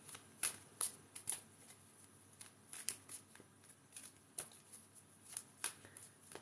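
A deck of reading cards being shuffled at a live card-reading session, with a run of crisp riffling bursts and sharp snaps at irregular intervals, close and fairly quiet, with no talking.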